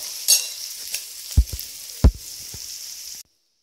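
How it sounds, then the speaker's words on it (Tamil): Onions sizzle in a pan for moong dal sambar: a steady near frying hiss with a few dull knocks and scrapes from a spoon, then the sound cuts off abruptly. "இன்னும் கொஞ்சம் ஆனியன் நல்லா வதங்கட்டும்"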